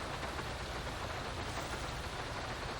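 Steady rain in Grand Theft Auto V, a dense, even hiss of falling rain with no breaks or voices, moderately quiet throughout.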